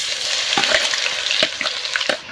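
Cumin seeds and crushed garlic fry in hot oil with a bright, continuous crackling sizzle, punctuated by several quick sputters and light stirring sounds close by.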